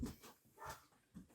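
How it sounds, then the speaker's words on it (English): Faint, distant dog sounds: a few short barks or yips, soft and muffled, with brief pauses between them. "sorry if you can hear the dog barking"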